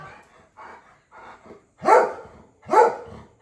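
A dog gives a few soft, muffled sounds and then two loud, close barks about a second apart. Nobody talks over them.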